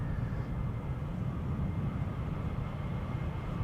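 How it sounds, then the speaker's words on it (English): A KLM Boeing 737 takes off at Amsterdam Schiphol, a steady broadband jet roar with heavy low rumble, loud and continuous without change across the short span. "KLM 737 just took off."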